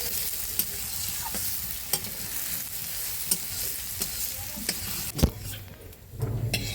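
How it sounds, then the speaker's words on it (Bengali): Radish and kohlrabi fry together in a pan, a soft constant sizzle broken by regular scraping stirs and a louder clatter of utensils near the end. "মূলো ওলকপি ভাজা হয়ে গেছে"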